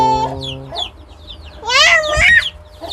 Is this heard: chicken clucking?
yes